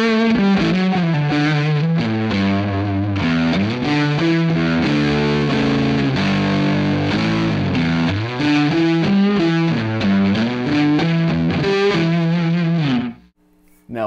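Electric guitar, a Music Man Jason Richardson model on its single-coil neck pickup, plays a sustained, effects-laden melodic phrase with shifting chords and a chorus-like shimmer, loud and continuous before cutting out near the end.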